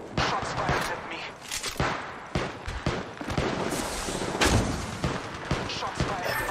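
Rapid gunfire bursts and impacts from the Apex Legends Mobile battle royale shooter, dense and continuous with sharp cracks throughout, mixed with game voice callouts.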